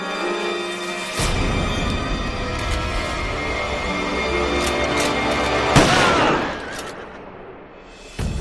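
Foreign soldiers fire guns in a period Indian TV drama set in Jhansi. A loud burst breaks out early, a sharper crack follows later, and a rumbling din carries on between them before fading.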